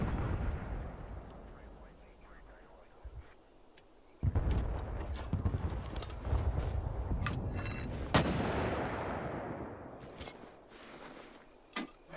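Mortar rounds fired in the game Hell Let Loose Vietnam during mortar training: two sharp, heavy thumps several seconds apart, each trailing off into a rolling rumble, over a low battlefield background.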